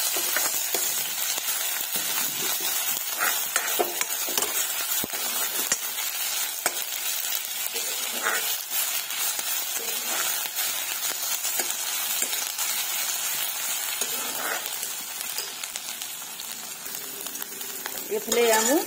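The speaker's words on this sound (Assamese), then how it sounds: "আদা নহৰু গোন্ধটো যোৱালৈকে অকণমান ভাজি ল'ম।" Ginger garlic paste frying in a pan, a steady close sizzle with occasional scraping and stirring noises running continuously throughout.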